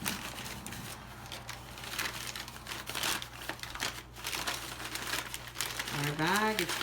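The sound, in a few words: paper bag being rolled and folded down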